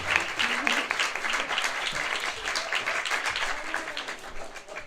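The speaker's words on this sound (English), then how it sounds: "So let's clap" A crowd at a bus riders' forum with mayoral candidates applauds steadily throughout, a dense wash of clapping that holds at a fairly even, loud level.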